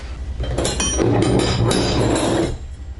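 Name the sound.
metal wrenches clinking while being handled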